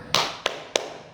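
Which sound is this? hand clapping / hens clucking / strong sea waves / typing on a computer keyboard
hand clapping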